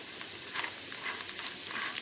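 Chutney frying in a pan, a steady close sizzle with a dense crackling hiss and faint stirring scrapes, even in level throughout, no talking.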